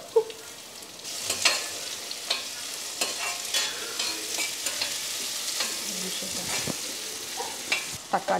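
Small onions frying in sesame oil, a steady close sizzle with crackling spatters and the occasional scrape of a stirring spoon against the pan, no voices.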